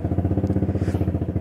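A motorcycle with a loud muffler idles close by, putting out a steady, rapid, throbbing exhaust pulse that stays strong and even throughout.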